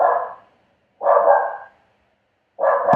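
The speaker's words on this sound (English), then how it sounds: "that's my dog." A dog barking indoors, three loud, close, separate barks spaced about a second apart, heard alone with no talk.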